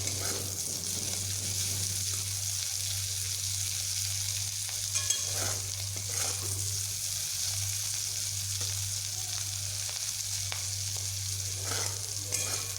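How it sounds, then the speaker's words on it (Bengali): Sliced bitter gourd frying in oil in a pan, a continuous close sizzle with periodic scraping stirs, alongside a steady low hum, and no talking. "করলাগুলোকে আমি আরও একটু ভালোভাবে ভেজে নিচ্ছি"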